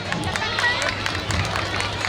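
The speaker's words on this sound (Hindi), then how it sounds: "जोरदार तालियां एक बार हो जाए यहाँ पे" A crowd at a Janmashtami cultural program claps in a dense, continuous burst, with chatter and murmuring voices blended into the applause.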